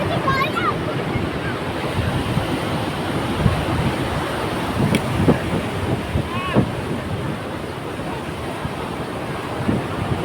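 Sea waves surge and wash continuously along Puri beach, a steady broadband roar with wind buffeting the microphone and faint voices now and then.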